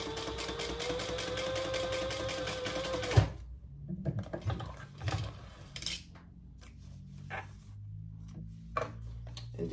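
A sewing machine stitches fabric for a small petit four basket at a shortened stitch length, running steadily and fairly loud for about three seconds before stopping, followed by quieter clicks and handling noises.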